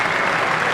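A cricket crowd breaks into loud, dense applause after Ganguly's dismissal, a continuous roar of clapping that fills the brief moment.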